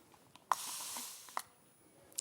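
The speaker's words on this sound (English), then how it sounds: "Can you spray it again, Kay?" A spray bottle sends a fine water mist onto craft card in two short, soft hissing bursts, with a click from the trigger at the start of each, the first burst longer and the second brief.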